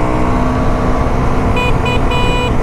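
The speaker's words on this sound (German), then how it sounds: "Jau, die Hupe. Hört es euch nochmal an." Horn of a 2021 Aprilia SX 125 motorcycle fitted with an Arrow end silencer, giving several short toots and one longer blast over a steady idling engine and road noise.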